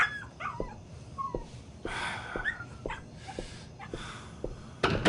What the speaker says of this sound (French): Foutu chien à la ferme